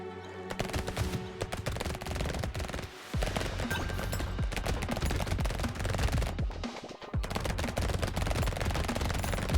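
Rapid SMG fire from the Brotato video game rattles on nearly continuously, dense and loud, with two brief pauses between long bursts of overlapping shots.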